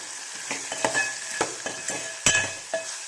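A spoon scrapes and stirs onions, tomato, turmeric, chilli and salt in a sizzling pan for tamarind rasam, a quick series of close, rhythmic scrapes over steady frying crackle.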